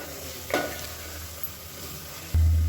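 Masala frying in oil in a pan while cooking kuska, a steady close sizzle with one stirring scrape near the start and a louder low burst near the end.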